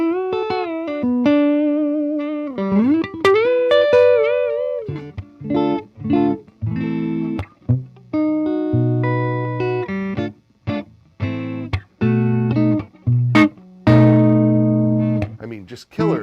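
Reverend Pete Anderson PA1 electric guitar on the neck pickup through a dry amp with no pedals, playing bluesy clean single notes, bends and chords with clear sustain and short pauses, loud and close.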